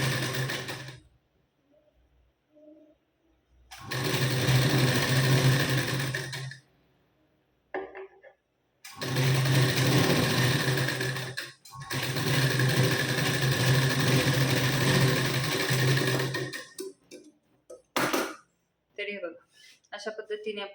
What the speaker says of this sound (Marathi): आता या पट्टीवर आता ही शिलाई आपण 4 किंवा 5 नंबरची देऊन घेऊ